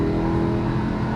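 A Lamborghini Huracan LP610-4 on a hot lap at Exotics Racing holds a steady, loud engine hum under light throttle, close and continuous for about a second.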